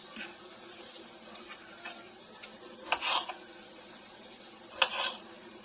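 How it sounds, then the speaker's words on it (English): Fajita meat browning in a pan gives a soft, steady sizzle with a few brief scraping stirs, quiet and close, with no talking. "once the meat starts browning good, then I'll add my vegetables on top"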